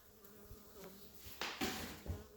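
Honey bees buzzing around an open hive frame during an indoor inspection, a soft steady hum with a few louder swells as bees pass close, plus faint handling thumps.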